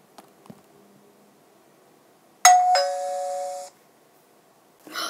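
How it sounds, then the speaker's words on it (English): A two-tone doorbell chimes once at about two and a half seconds, a bright ding followed by a sustained ringing tone lasting about a second, in an otherwise quiet room with faint rustling before and a soft noise at the end. "That's the bell!"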